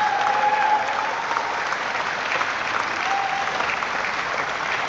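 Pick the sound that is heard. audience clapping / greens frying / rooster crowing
audience clapping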